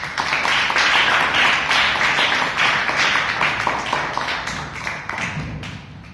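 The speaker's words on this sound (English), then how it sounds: "let us welcome him with a big round of applause" A meeting audience gives a big round of applause, dense and fairly close, holding steady for several seconds before thinning out toward the end.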